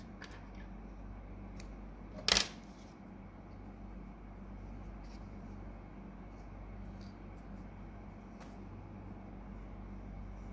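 Scissors snip through crochet yarn after a slip stitch on a granny flower square. There is one short, crisp cut against a quiet room hum.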